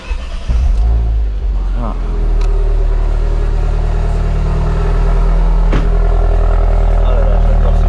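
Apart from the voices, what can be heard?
car engine starting and revving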